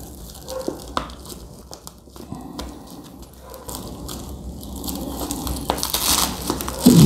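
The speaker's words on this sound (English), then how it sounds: "I'm getting through the cellophane." Cellophane wrapping on a small stationery package being torn and peeled open, giving close, irregular crinkling and tearing that grows louder and denser toward the end.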